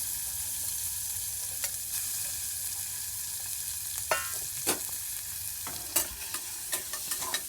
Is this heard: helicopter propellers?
no